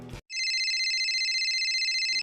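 Telephone ringback tone while a phone call is being placed, one long steady electronic ring lasting about two seconds, loud and alone after a brief click.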